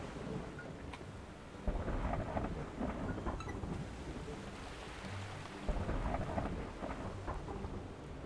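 Thunder rolls through steady, heavy rain in an ocean oil tycoon video game storm, with two deep rumbles swelling out of the constant hiss of the downpour and no voices.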